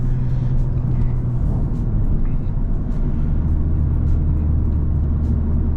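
A tuned BMW M340i making around 700 wheel horsepower drones with a loud, deep engine note from inside the cabin as it pulls under power, with the steady rumble sustained throughout.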